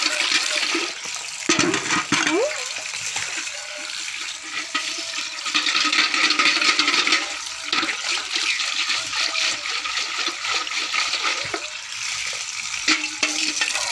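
Water gushes steadily from an opened tap into a bucket being rinsed for washing, a continuous hissing splash lasting throughout with small surges and knocks of the bucket.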